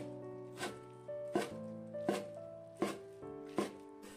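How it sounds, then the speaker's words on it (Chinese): A knife chops blanched, squeezed spinach into segments on a cutting board, giving about six evenly spaced sharp thuds over steady background music. "用刀给它切成段。"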